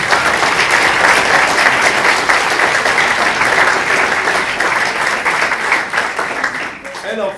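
An audience at a lecture applauds steadily and loudly throughout, welcoming a speaker, the clapping tapering off near the end.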